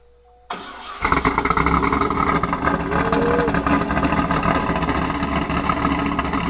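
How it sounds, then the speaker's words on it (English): A C5 Corvette engine cranks briefly on a cold start, catches and roars to life, then settles into a loud steady idle close by. "Hear that cold start, man."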